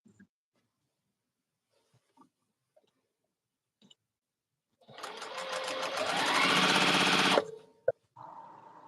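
A sewing machine winds thread onto a bobbin, starting after near silence with a loud, close, rising whir that holds steady for about two and a half seconds, then stops with a click and lower hum.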